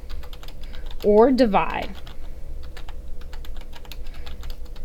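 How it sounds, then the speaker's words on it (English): Rapid clicking keystrokes on a computer keyboard while working through an inequality problem, steady and close throughout, with a brief spoken phrase near the start. "I'm going to try typing that."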